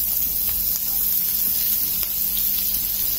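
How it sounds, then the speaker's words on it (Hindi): Finely chopped onion hits hot oil with roasted cumin seeds and sizzles, a loud, close, steady hiss that runs unbroken throughout. "जीरा भुन गया है, अब हम इसमें ऐड कर रहे हैं बारीक कटा प्याज"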